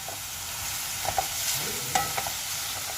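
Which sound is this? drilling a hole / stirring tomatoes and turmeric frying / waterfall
stirring tomatoes and turmeric frying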